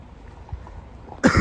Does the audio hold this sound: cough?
yes